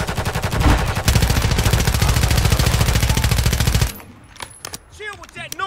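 Sustained rapid automatic gunfire in a video game, loud and dense for several seconds, then cutting off to scattered quieter shots and game sounds.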